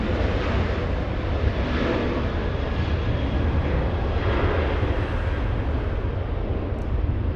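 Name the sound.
Fiji airliner arriving at LAX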